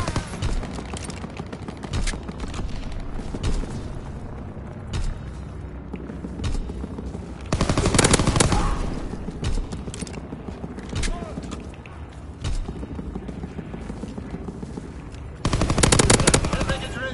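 An enemy aircraft gunner's machine-gun fire in a video game: loud, dense rattling bursts that swell in two strong waves amid ongoing battle noise, with voices talking throughout.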